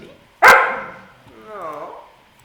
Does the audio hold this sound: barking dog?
yes